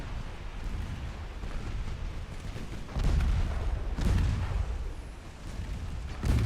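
A torpedo strikes a warship in Ultimate Admiral Dreadnoughts, set off by several muffled blasts rolling over a constant low rumble, with the loudest thuds landing a second or so apart.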